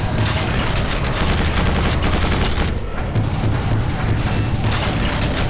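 Missile weapon fire and explosions in the Quake 4 shooter game, a dense, loud barrage of blasts and booms with only a brief dip before the gunfire resumes.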